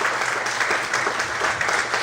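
A church congregation applauds during a Portuguese-language sermon, with steady, dense clapping filling the space for about two seconds and little talk over it.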